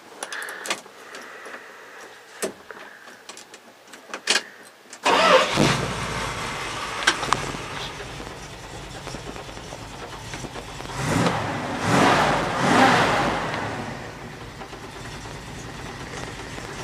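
A 1979 Dodge D150 Power Wagon 4x4 truck with an added choke cranks a few short times, then the engine catches and settles into a rough, loud idle with some revving swells, heard close up.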